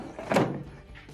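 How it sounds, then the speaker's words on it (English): The detergent drawer of an LG washing machine, opened during repair, slides back in and lands with one short, fairly loud thunk, followed by quiet. "Slide our drawer back in."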